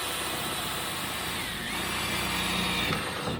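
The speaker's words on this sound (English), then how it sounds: "I got to drill 1 more hole, and then we can bolt it in place." A power drill bores a hole through a metal cover plate during a vintage air conditioning installation, a steady, unbroken whirring grind that holds at one level for a few seconds.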